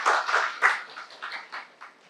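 A small audience claps together in a brief burst of applause at the close of an academic event, the claps close and dense at first and thinning out over about two seconds.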